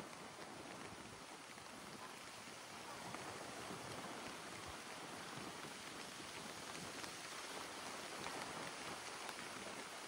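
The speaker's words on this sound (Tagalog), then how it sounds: "Sana hindi pa lumakas masyado yung ulan." Steady rain hisses evenly throughout on Boracay Island, a constant wash of drops with no voices.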